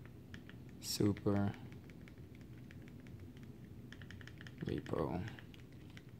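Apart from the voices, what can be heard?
typing on a keyboard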